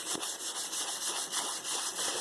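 Steady back-and-forth abrasive rubbing of a sanding block on rusty metal of a vice, a coarse scratchy sanding sound in even strokes, loud and close with no talking.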